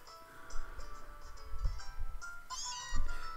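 A cat meows repeatedly in the Pokémon Moon video game, several short game-sound mews in quick succession over soft background music, fairly close and clear.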